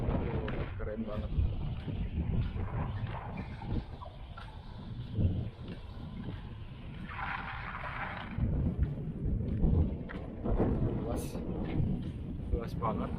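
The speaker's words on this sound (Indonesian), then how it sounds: "anginnya kencang banget nih saat ini" Strong wind buffets across open desert in Saudi Arabia near a wrecked World War II aircraft, a loud continuous rumbling roar with gusts throughout, with a person talking over it.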